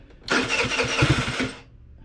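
Scooter engine on ethanol-free fuel cranks and sputters briefly, a close, loud burst of rapid firing pulses lasting just over a second before dying away.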